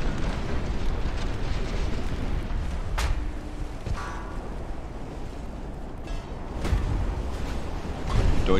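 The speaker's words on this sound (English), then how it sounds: "And there's an ammo detonation sinking." An ammunition detonation destroys a warship in the naval video game Ultimate Admiral: Dreadnoughts. A continuous deep, roaring rumble is punctuated by two sharp blasts, one partway through and another later on.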